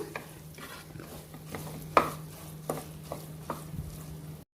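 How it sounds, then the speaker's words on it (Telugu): Rice being stirred and fried in a pan for tomato pulao, with scraping stir strokes and a few sharper spoon knocks against the pan over a low steady background, no talk. "సో మొత్తం ఒకసారి దీన్ని కలుపుకుంటూ ఒక నిమిషం పాటు మనం వేయించుకుందాము."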